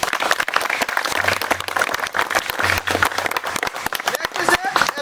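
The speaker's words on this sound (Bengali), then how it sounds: "একবার জোরদার তালিয়া" Enthusiastic applause from a crowd at an academy gathering honoring a new army recruit, dense continuous clapping with scattered louder claps and some voices underneath.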